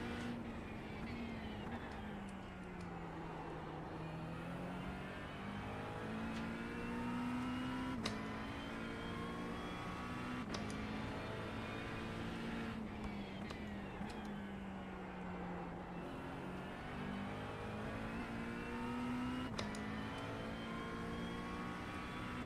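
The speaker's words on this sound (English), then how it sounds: "I think the McLaren has pretty good straight line speed here" A McLaren race car engine in the iRacing sim, revving up through the gears in repeated rising whines with brief shift dips, a steady onboard drone that stays fairly quiet and alone.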